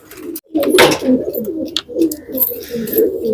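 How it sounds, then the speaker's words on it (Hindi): Pigeons in a pigeon loft give a steady, overlapping chorus of low, throaty cooing, close and fairly loud, with soft rustling behind it. "आप ये देखें हाजी साहब के कबूतरों का, सारे कबूतरों का एक साथ आपको शौक करवा देते हैं"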